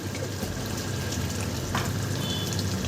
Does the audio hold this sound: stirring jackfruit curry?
yes